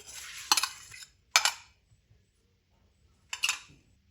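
A spoon stirs a chicken biryani marinade with yogurt in a bowl, making three short, close scraping clinks with quiet gaps between them.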